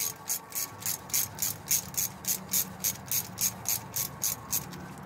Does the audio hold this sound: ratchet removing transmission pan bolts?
yes